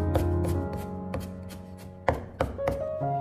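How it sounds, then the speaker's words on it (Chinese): A knife on a cutting board dices a small piece of fresh ginger, giving a handful of close, sharp chops at an uneven pace. "先切成薄片，然后再改刀切成细丝，最后再切成小丁"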